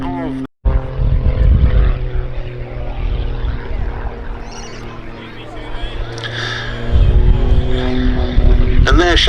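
Pitts S-2S aerobatic biplane flying slowly at a summer air show at Duxford, with a loud, steady propeller engine drone that swells near the end, heard under a commentator's voice.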